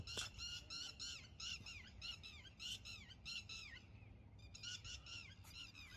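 Birds call in rapid, harsh repeated squawks, several bursts in quick succession with a short pause, over a low rumbling background.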